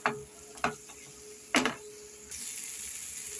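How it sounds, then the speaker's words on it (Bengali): Onions with chilli powder sautéing in a pan, with a few sharp scrapes and stirring knocks up close, followed by a steady low sizzle. "এখন আমি এটাকে এইভাবে কষতে থাকবো।"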